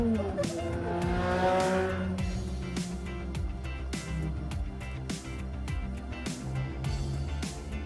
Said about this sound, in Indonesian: kalau aku lagi bikin konten pasti ada suara-suara motor dan mobil